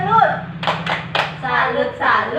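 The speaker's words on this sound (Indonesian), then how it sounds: "Tepuk salut." A classroom group of participants performs a short rhythmic Indonesian 'tepuk salut' clapping chant, a few sharp clustered claps in quick succession mixed with voices calling out together.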